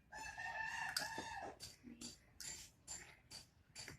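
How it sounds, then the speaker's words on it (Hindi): Outdoor bird calls: a rooster crows, followed by several short, bright calls in quick succession. "परिंदों की आवाज़ें बहुत अच्छी लगती हैं।"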